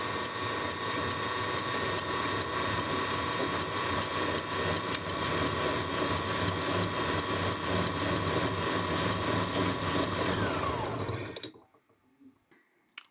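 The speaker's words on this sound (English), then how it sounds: "And now when I press the pedal, this will be loaded." A Husqvarna Prisma 940 sewing machine winds a bobbin with a steady, close motor whir that runs continuously for about eleven seconds, then cuts off abruptly into near silence.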